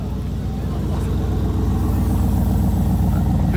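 Sports car engine rumbling loud and steady at a Cars & Coffee meet in Luxembourg, with a continuous low throb under crowd murmur and nearby voices.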